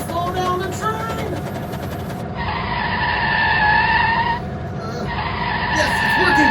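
A runaway train in a video game brakes hard, its wheels letting out a sustained high metallic screech that holds and wavers as it slows, while a person talks over the noise.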